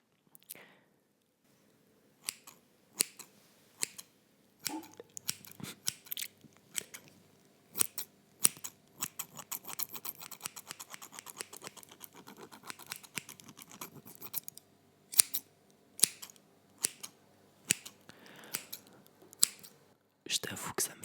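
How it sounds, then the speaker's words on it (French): Scissors snip close to a microphone in crisp, sharp bursts, sometimes singly and sometimes in quick runs, with brief silences between, over soft whispery scraping and faint handling noise. "je vais me munir d'un ciseau parce que je kiffe les ciseaux"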